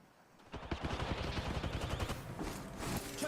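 Thermite grenade thrown in a video game, followed by a dense, sustained crackle of rapid bursts like gunfire, loud and continuous for several seconds.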